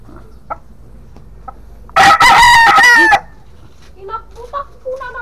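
A rooster crows once, loud and close, in a harsh drawn-out call lasting about a second, with softer clucks and faint background sounds before and after.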